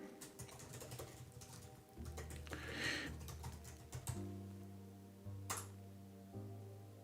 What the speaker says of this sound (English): switching between this Mac keyboard and that ThinkPad keyboard, because my fingers are like slightly off when I do it and I just can't type